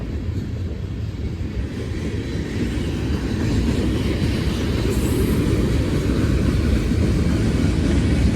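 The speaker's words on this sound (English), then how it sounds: "Both trains are hauling grain cars." Steady low rumble and rolling clatter of two BNSF freight trains hauling grain cars passing close by in Mulvane, Kansas, continuous and loud throughout with no voices.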